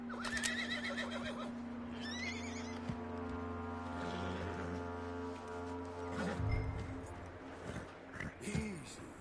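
A horse in Red Dead Redemption 2 gives several loud, shrill whinnies and snorts over a steady low drone and storm ambience, with hoof clops and a voice calming it partway through.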